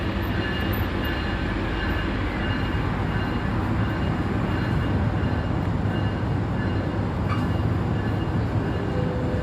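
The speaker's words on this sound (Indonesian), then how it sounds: "Kereta api Mutiara Timur udah diberangkatkan dari stasiun Surabaya menuju tujuan akhir stasiun Ketapang" The Mutiara Timur long-distance train pulling out of Surabaya station in Indonesia, with a steady, loud rumble of wheels and carriages that holds constant, with no voices.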